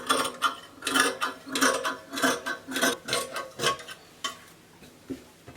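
Scissors cutting through fabric for a short shirt gown with a ruffle, a run of crisp, close snipping strokes in an uneven rhythm, each cut a brief rasp, heard alone without talk.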